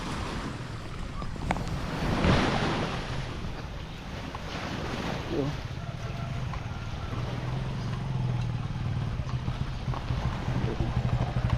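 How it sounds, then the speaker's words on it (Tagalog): Steady roar of sea waves and surf with gusting wind across the microphone, continuous and fairly loud, no voices. "Grabe ang taas ng dagat guys oh."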